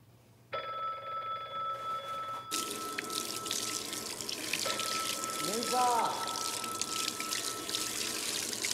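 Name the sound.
telephone ringing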